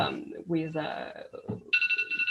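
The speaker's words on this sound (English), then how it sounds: "I just have to ask my clock to stop ringing" An alarm clock rings in rapid pulsed bursts near the end, following a stretch of someone speaking.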